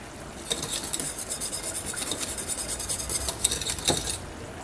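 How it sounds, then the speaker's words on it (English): Gravy for turkey being stirred in a cooking pot: a continuous scraping, rubbing swish of a spoon against the pot bottom, fairly close and unbroken, with no talking. "Now, you have to continuously stir because gravy will stick to the bottom while you're doing this"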